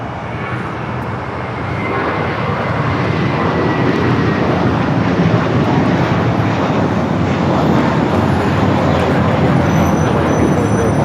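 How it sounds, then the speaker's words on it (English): An Airbus A321 bound for Boston takes off from Los Angeles International Airport, its jet roar swelling after the first couple of seconds and then staying loud and steady, close and dominant. "Airlines 1589 taking off to Boston on the A321"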